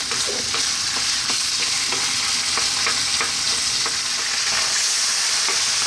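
Beef strips for burrito filling fry steadily in a hot pan, a dense, even sizzle with faint scraping taps of stirring scattered throughout, close and continuous with no voices.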